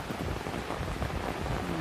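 Heavy rain falls steadily over a flooded village in the Dwarka district, a dense, unbroken hiss of downpour with a low rumbling undertone throughout.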